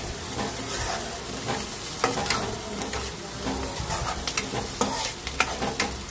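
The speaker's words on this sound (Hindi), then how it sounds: "हमारा जो प्याज वगैरह है सब अच्छे से भून चुका है" Onions with turmeric, coriander, chilli and garam masala frying in a pan, a steady close sizzle with scraping stir strokes throughout, no talking.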